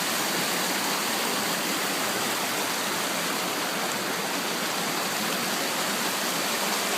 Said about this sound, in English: this is the River Amber.